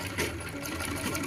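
A sewing machine stitches fabric with a close, steady rapid whir, running continuously through the short moment.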